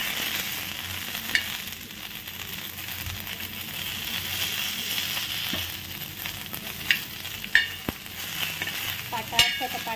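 Onions sautéing in a pan for a village-style spicy mutton curry, a steady close sizzle of frying under repeated stirring and pressing with a spoon, with a few sharp clinks of utensil on metal and no talk.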